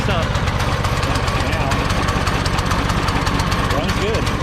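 A small go-kart engine runs steadily at idle, a loud continuous mid-pitched chug with a knocking pulse and vibration, close by and unbroken throughout.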